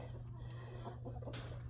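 Cream Legbar and Buff Orpington chickens in a backyard coop give a few soft, scattered clucks over a low steady hum, close but quiet.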